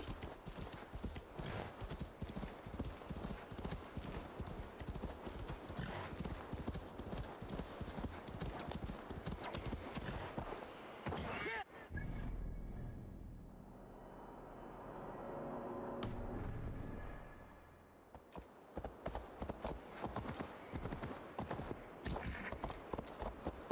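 Horse hooves clip-clop at a steady gallop in Assassin's Creed Valhalla, loud and close and nearly continuous, pausing briefly midway under a low rumble before the hoofbeats resume.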